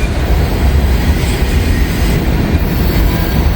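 A big freight train carrying heavy aluminum ingots rumbles past at close range, a steady, loud low roar of rolling wagons with no voices.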